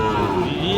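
Cattle at a livestock market, with one low, sustained moo rising and holding briefly, loud and close.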